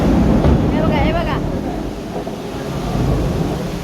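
A heavy rainstorm brings deep rumbling thunder that rolls on loudly and steadily over constant rain, with a voice talking briefly partway through.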